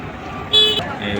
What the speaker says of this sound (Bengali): বাসের হর্নে